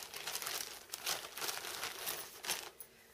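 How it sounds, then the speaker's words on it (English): Knitting yarn packaging crinkles close by in soft, irregular bursts of crackly rustling that continue for a few seconds, with no talking. "sorry for the crinkling."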